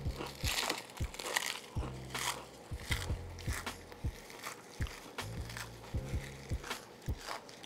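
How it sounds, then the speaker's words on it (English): Tortilla chips, Doritos, crumbled by hand for a taco casserole, giving a run of dry crinkling, crunching bursts in irregular close bursts with brief pauses, no talking. "We're just gonna crumble some up."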